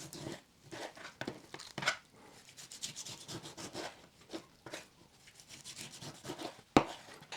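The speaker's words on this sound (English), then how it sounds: "So we'll cut these up into smaller pieces and then place them in a tray" Boneless spring lamb being cut into smaller pieces with a knife on a board, a run of soft rubbing, slicing strokes with a sharper knock near the end, close and fairly quiet with no talk.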